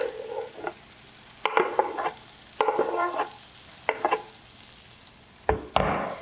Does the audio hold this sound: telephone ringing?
no